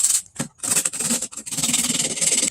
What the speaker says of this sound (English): scuff it out with some 100 grit sandpaper just to get out some of this heavier peeling